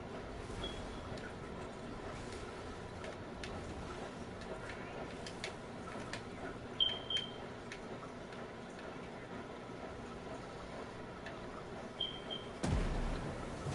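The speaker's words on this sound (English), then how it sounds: "Sounds like two smoke alarms going off now." Smoke alarms give short, high, piercing beeps, three of them spaced several seconds apart, over a quiet room with faint clicks and thumps.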